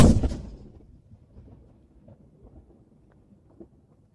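A single loud gun salute round fired at the King Charles III proclamation ceremony, a sharp booming blast at the start that rolls off into a long fading rumble.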